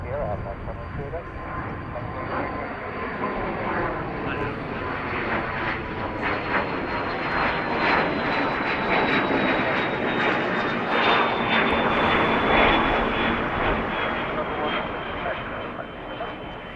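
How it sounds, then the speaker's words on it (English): Aircraft engines roar as a fixed-wing airliner climbs out after takeoff from Dublin Airport, a broad, sustained rumble swelling in the middle and easing slightly toward the end. "Definitely has that same sound as aircraft climbing out of the macula."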